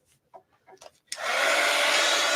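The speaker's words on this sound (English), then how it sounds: "So heat gun alert. We're going to dry our hearts." A heat gun dries paint on heart-shaped card pieces for Valentine postcards. A few soft words come first, then the gun starts suddenly and blows with a loud, steady, close rushing roar until the end.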